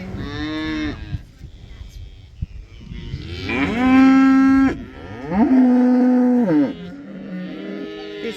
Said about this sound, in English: The cow symphony.